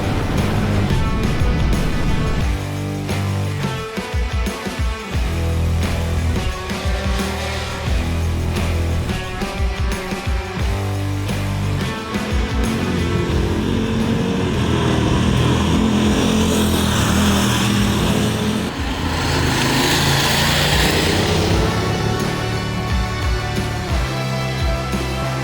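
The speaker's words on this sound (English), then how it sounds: "this is KTM's 1390 Super Adventure S Evo" A KTM 1390 Super Adventure S Evo motorcycle ridden on Tenerife roads, its engine droning loud and close throughout, with steady harmonic tones rising and falling as the throttle opens and wind rush builds.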